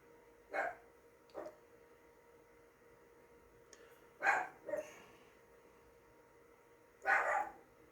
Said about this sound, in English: He barking at nothing.